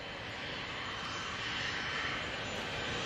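Steady, unbroken roar of a Bombardier Challenger 350 business jet departing Manchester Airport for Inverness, a broad engine wash holding level and fairly loud for the whole stretch with no talk over it.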